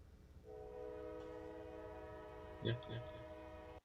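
A train heard over a livestream camera feed in Calhoun, Georgia, its horn sounding in two loud blasts over a steady rumble of rolling rail cars.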